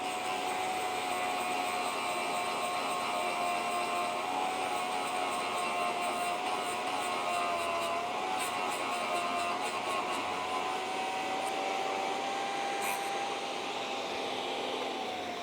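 A Drill Doctor sharpener grinds relief onto a drill bit, a steady whining drone with a sustained tone that holds level and alone for the whole stretch, slightly wavering in pitch.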